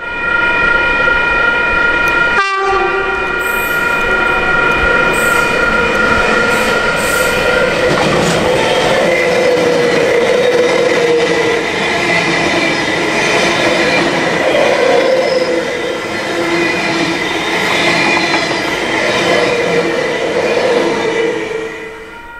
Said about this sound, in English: Moving back to the platform just in time to get the Sydney-bound intercity with V-set number 8 up front.